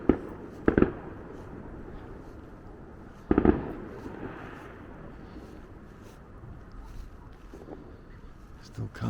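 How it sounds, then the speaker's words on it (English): Fireworks burst in the distance over a North Wales town at night, two or three dull booms with crackle standing out against steady wind and outdoor background noise. "I saw one firework just now."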